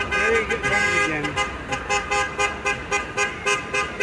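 A car horn honks in a rapid string of short toots during a street protest march against the National Guard in Portland, close and loud over traffic and crowd noise.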